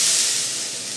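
Water drops sizzle in a hot wok, a loud, steady hiss lasting the whole moment with no voices.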